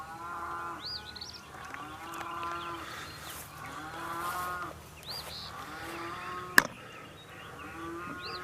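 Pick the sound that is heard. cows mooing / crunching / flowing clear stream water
cows mooing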